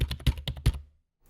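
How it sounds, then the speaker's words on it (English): A sampled keyboard-typing sound from an ASMR sound library, with four or five quick, close keystrokes in an uneven rhythm and then silence. "That's someone definitely typing on a keyboard."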